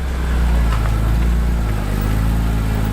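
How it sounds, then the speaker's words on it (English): A car on a race track drives past with a loud, steady engine roar that swells slightly and holds throughout, no voices. "What's beautiful is watching my own car drive."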